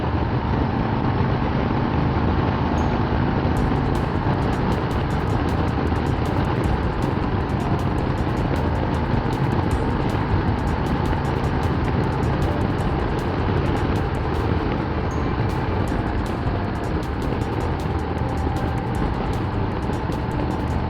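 A 2021 Harley-Davidson Road Glide cruising at speed, heard as a loud, constant roar of engine and wind rush that stays level throughout with no speech.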